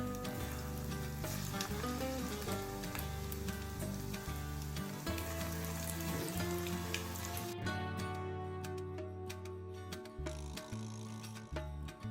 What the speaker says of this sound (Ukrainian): Розігріваю та буду смажити.